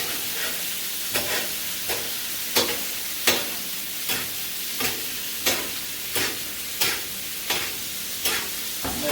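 Butter sizzles in a pan as a rack of lamb is basted, a constant frying hiss broken by rhythmic spoon scrapes and splashes that repeat roughly every second, close and moderately loud.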